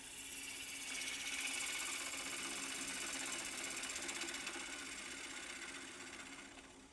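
A bowl gouge cuts a small cherry wood round-bottom calabash spinning on a lathe, a steady, fairly faint whirring drone with a fine rapid chatter that holds evenly throughout.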